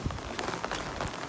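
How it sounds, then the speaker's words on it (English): Steady rain falling outdoors on a wet day along the Appalachian Trail, a dense even patter of drops filling the whole moment, fairly close and continuous with no voices. "Yep, I'm willingly going into the rain."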